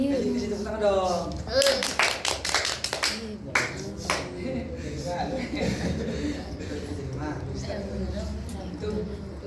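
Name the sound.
class clapping hands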